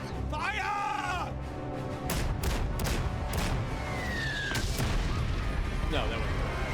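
Staged World War II gunfire from a comedic short film, with rapid sharp bursts of shots and booms over a rumbling battle bed, along with shouted voices and whistling tones.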